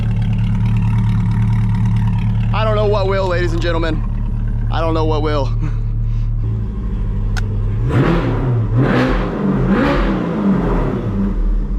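A C8 Corvette fitted with a titanium exhaust revs loudly and close by in several rising bursts. Someone talks over the steady engine drone before and between the revs.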